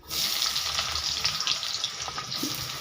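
Chopped onion, dry red chilli and black cumin hit hot mustard oil in a pan, giving a loud, steady sizzle that runs unbroken and alone.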